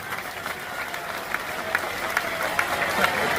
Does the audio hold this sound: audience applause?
yes